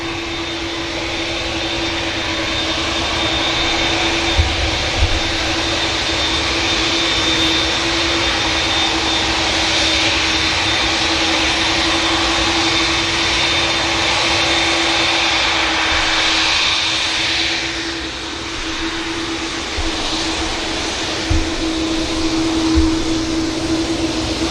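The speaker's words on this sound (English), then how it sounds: "This TUI Dreamliner entering right in front of us." TUI Boeing 787 Dreamliner moving at Manchester Airport, a loud steady jet roar with a sustained high whine and low rumble that swells slightly and then eases toward the end, with no voices.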